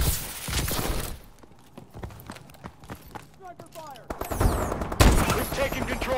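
Sniper fire rings out in a shooter video game as sharp cracks and scattered gunshots, with a louder burst near the end and voices talking over the action.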